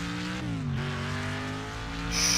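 A car's engine in NextCarGame whines and drones steadily, pitch sliding down and rising again, with a brief skid-like hiss near the end.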